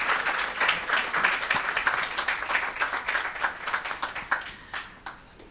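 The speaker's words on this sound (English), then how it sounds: "Let's give a round of applause," Round of applause from an audience at a travel expo magazine launch event, dense steady clapping from a crowd lasting several seconds before tapering off near the end.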